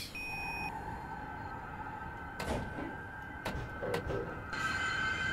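In the Train Simulator 2016 video game, a regional train departs a station with a brief beep, a steady electric hum and a few clunks as it pulls away, with no talking.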